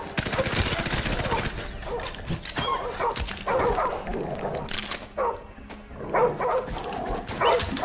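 A dog in the shooter game Modern Warfare Remastered barks and yips repeatedly at close range, mixed with bursts of gunfire and brief whimpers.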